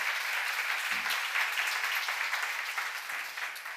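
A congregation at a Korean church seminar applauds in a dense, continuous wash of clapping, moderately distant and even throughout, with no distinct voice standing out.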